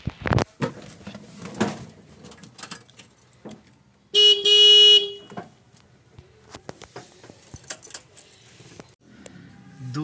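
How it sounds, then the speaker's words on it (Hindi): A car horn sounds once, loud and close, in a steady blast of about a second at a gate, with faint movement noises before and after it. "गाड़ी का हॉर्न देगा तभी शायद निकलेगा"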